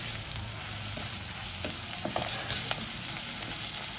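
Onions browned in a pan, frying with a close continuous sizzle and a few scattered clicks and scrapes of stirring.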